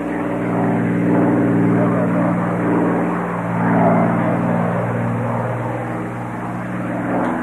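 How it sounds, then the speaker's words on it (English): A Spitfire's loud, throaty Packard Merlin piston engine drones steadily, swelling and easing slightly as it passes, with a rough propeller rumble throughout. "many just came to hear the sound of its Packard Merlin engine"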